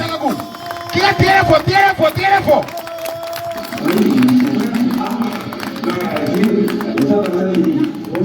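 A crowd at a church revival campaign cheers and shouts in loud waves, with bursts of rhythmic chanting and clapping at first, then a sustained roar of many voices.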